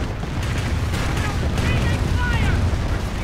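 Calliope rocket barrage explosions in a WWII strategy video game, a continuous dense rumble of blasts and booms with faint whistling streaks, sustained and loud throughout.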